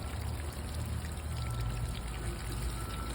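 Water poured steadily into plant pots on a backyard porch, a constant close splashing and trickling hiss that runs without pause from start to finish, with no talking.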